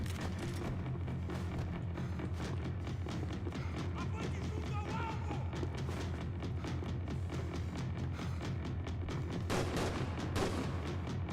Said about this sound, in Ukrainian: Він так різко стріляв з пістолетів.